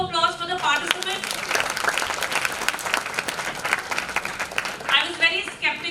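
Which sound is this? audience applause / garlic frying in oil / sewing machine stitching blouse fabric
audience applause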